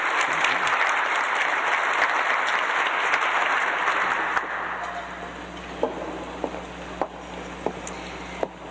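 A luncheon audience applauds, dense sustained clapping at first that thins out midway into a few scattered, distinct claps before fading.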